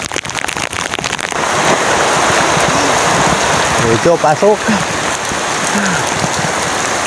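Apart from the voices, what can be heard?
heavy rain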